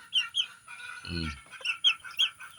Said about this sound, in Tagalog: napakarami kong manok rito